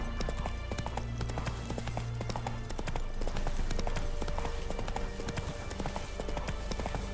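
Roach, Geralt's horse in The Witcher 3 game, trotting with rapid rhythmic clip-clop hoofbeats that continue steadily and loudly throughout, close and without talk.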